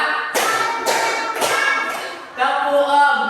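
A classroom group claps together in a counted rhythm, each burst of hand claps loud and close, falling into sharp repeated groups with brief gaps between them.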